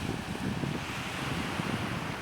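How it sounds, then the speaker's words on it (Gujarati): Sea waves wash onto a beach under a light morning wind, a steady, soft roar of surf and breeze with no voices. "સવારનો સમય, દરિયાકાંઠે હળવો પવન ફૂંકાય છે."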